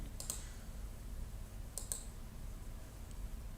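Computer mouse clicks while working in GRASS GIS software: two quick pairs of close, faint, sharp clicks, then a softer single click, over a quiet room hum.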